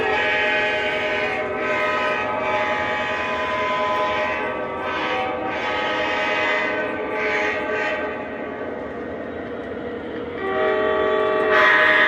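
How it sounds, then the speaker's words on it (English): Model SD70ACE demonstrator diesel locomotive by Electro-Motive Division running on a layout, its horn sounding in repeated blasts over a steady loud motor hum and rolling wheel noise, with a final louder horn burst at the end. "There's another new addition to the train room. It's SD70 ACE, the demonstrator electromotive division."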